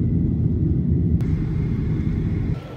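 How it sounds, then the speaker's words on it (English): Steady, loud low-frequency rumble of an airplane cabin waiting on the ground before takeoff, a constant engine and ventilation drone that holds unchanged throughout with no voices over it. "We are now on the plane, so it's a little loud."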